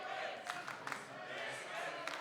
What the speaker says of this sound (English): Cheering for Liquid here in Kiev.